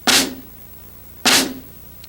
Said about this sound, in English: A flam sounds like this.